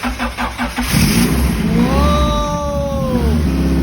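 A Honda B20 VTEC car engine cranking in short rhythmic bursts, catching and starting, then revving with rising and falling whine before settling to a loud close idle.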